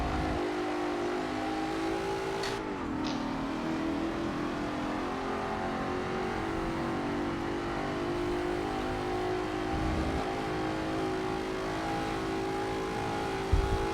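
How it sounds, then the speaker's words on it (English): A racing car's engine in the Forza racing video game drones and revs steadily throughout, with a brief pitch dip as it shifts gears or slows, loud and continuous and with no talking. "This is the car I want to ram off the road."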